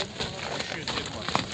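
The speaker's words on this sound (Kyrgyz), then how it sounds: "Акбоз атты бери буруңузчу көрөйлү астыларына" Horse hooves clip-clop at a horse market near Bishkek, a few close, quick strikes on hard ground among nearby talking voices.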